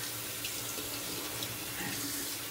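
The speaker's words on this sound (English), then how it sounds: "I'm gonna put this into my hot cup of water there." Hot water rushes and splashes steadily as a synthetic-knot shaving brush goes into a cup, a continuous close watery hiss with no talking.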